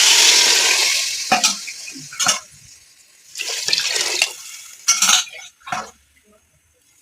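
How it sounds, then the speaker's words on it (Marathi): A loud sizzling hiss as water hits a hot pan, followed by bursts of scraping and stirring that come and go, fading near the end. "तर आता पाणी टाकायचं याच्यामध्ये"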